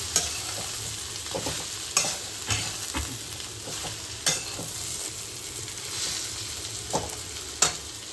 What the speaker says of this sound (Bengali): শুকনো লঙ্কা দিয়ে তেল দিয়ে চলতাগুলো ছেড়ে দিয়েছেন।